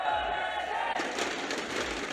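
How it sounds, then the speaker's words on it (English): An esports arena crowd at the 2017 Vainglory World Championship cheering after a match, a broad roar swelling in after a brief quieter moment, with a voice over it. "As you can hear, the crowd is riled up."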